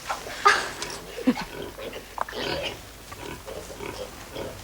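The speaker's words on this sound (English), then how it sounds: "I want to see the pigs too" Pigs grunting on a farm, short scattered snorts and grunts at close to middle distance, with voices talking intermittently alongside them.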